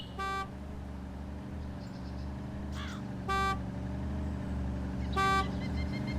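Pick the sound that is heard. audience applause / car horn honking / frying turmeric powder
car horn honking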